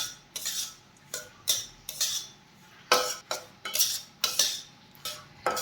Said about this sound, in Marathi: आणखीन दोन एक मिनिटे रवा छान भाजून घेऊयात